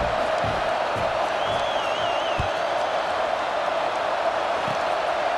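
Stadium crowd in an NCAA Football video game, a steady wash of murmuring crowd noise throughout with faint scattered shouts, moderately loud and even, with no clear peaks of cheering.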